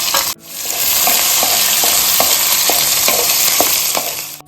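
Chopped onions fry for a pathrode tempering in a village kitchen, sizzling loudly and continuously while a spoon scrapes the pan in regular strokes about twice a second.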